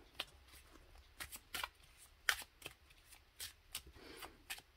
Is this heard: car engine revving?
no